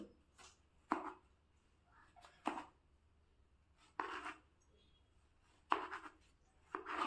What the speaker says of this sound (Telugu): చిన్న చిన్న పీసులు కింద కట్ చేసుకోవాలండి